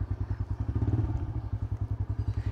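A close motorcycle engine idles with a rapid, even thumping pulse throughout, on a bike that sometimes fails to start.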